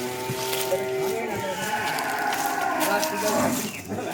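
A Holstein Friesian bull at a cattle market in Dinajpur, Bangladesh, gives a long, drawn-out moo that sounds close and loud, with people talking in the background.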